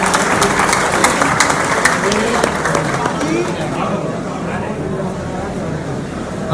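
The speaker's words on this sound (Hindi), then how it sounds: "उस्ताद अशरफ वसी, कोई तालियां नहीं उस अच्छी उस्ताद के लिए।" A crowd applauds at a pigeon racing prize ceremony, with scattered clapping and crowd chatter that gradually thins out.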